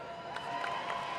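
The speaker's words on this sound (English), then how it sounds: "a loud cheer and applause from the crowd as Buckley takes his leave of the cage" A cage-fight crowd roars with cheers and scattered applause as a fighter leaves the cage, a dense, continuous wash of voices and clapping with a few sharper shouts rising through it.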